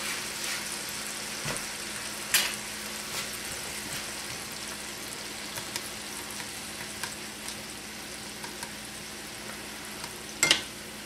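Steady crackling sizzle of chicken frying in a pan, with occasional louder pops and clinks throughout.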